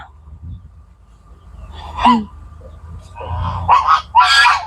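Several loud, nasal goose honks ring out close by, a single call first, then a quick burst of overlapping honks at the end.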